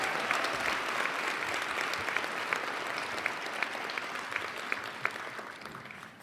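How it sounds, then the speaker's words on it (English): An audience applauds a graduating class at a high school senior awards day, a steady wash of many hands clapping with sharper individual claps standing out, holding for several seconds before easing slightly. "One more round of applause for the class of 2026."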